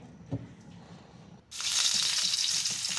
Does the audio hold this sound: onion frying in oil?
yes